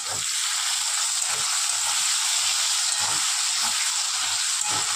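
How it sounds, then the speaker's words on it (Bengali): Potatoes fry in hot oil in a pan, giving an even, unbroken sizzle with soft low bubbling underneath. "তো চলুন আলুগুলো লাল করে ভেজে নিয়ে আর আসছি।"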